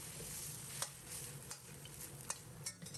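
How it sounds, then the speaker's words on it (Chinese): Tomato sauce with shiitake mushrooms and wood ear fungus being stir-fried in a wok, a low sizzle broken by several sharp spatula scrapes and clicks at irregular intervals, close up. "简单翻炒扒拉2下"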